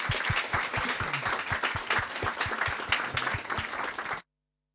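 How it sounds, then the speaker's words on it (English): A warm round of audience applause greeting guests at a talk event, dense clapping with a few loud close claps punctuating it, continuing steadily for about four seconds before cutting off abruptly to silence. "please give our guests a warm round of applause"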